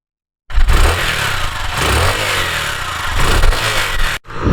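A Honda CG125 motorcycle runs steadily while being ridden, its mid-pitched single-cylinder engine loud and close with a continuous throaty drone that briefly dips near the end.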